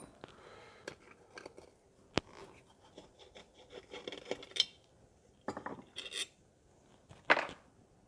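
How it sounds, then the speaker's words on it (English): Phillips head screws being backed out of a Coleman 500 or 502 single burner stove during disassembly, giving sparse close metallic clicks, ratcheting scrapes and rubbing noises with quiet gaps between them. "I'm going to take these 3 Phillips head screws off."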